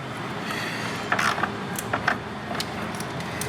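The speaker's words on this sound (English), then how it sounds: "Grab our 13mm socket, tighten that on down." A 13mm socket ratchet tightens a car battery terminal on a 2000-2007 Ford Focus, giving a few short clicking bursts close by over steady background noise.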